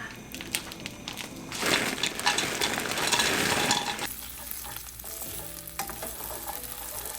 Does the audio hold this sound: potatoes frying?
yes